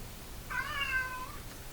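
A single short meow from a cat sounds at moderate distance, faint against a quiet steady hum, with no voices.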